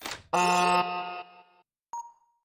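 Alarm in the Theia - The Crimson Eclipse video game: a loud, harmonically rich electronic blare sounds for about a second and fades, then after a short gap a single bright tonal beep rings out and decays.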